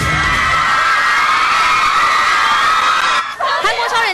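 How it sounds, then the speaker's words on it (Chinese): Hundreds of fans screaming nonstop at an airport arrival, a dense, loud, high-pitched crowd roar with whoops, and a reporter's voice heard over it near the end. "上百位歌迷尖叫不断"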